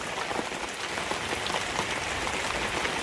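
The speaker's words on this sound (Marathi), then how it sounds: "एवढा पाऊस येतोय की काय सांगू. हे बघा हवा पण येते आणि पाऊस पण येते." Heavy rain driven by wind pours down in a dense, unbroken hiss, drumming steadily on surfaces from start to finish.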